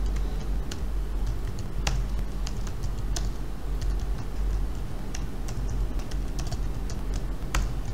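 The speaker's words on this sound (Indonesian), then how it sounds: "Oke, kita ketikkan di sini kodenya." C++ code being typed on a computer keyboard, a steady stream of close, crisp key clicks with occasional louder strikes over a low background hum.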